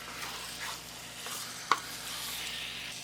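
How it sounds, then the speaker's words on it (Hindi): Chicken Bihari boti being stirred in a hot pan, soft scraping and a gentle sizzle with one sharp clink of the spoon against the metal, close and quiet, no voices. "इसको अच्छी तरह से चला लें, ऊपर नीचे कर लें इस तरह से"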